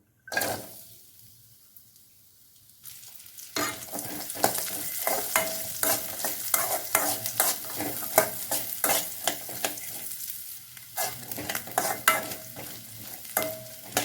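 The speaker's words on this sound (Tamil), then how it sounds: "கொஞ்சம் எண்ணெய் சேர்த்துக்கலாம் தேங்காயை நல்லா வறுத்துக்கலாம்" Coconut pieces fry in hot oil for a coconut chutney, a close crackling sizzle broken by repeated scraping and stirring clinks of a utensil against the pan, quiet at first then busy and steady.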